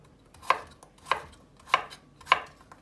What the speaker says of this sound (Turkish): Daha sonra küp küp yapacağız.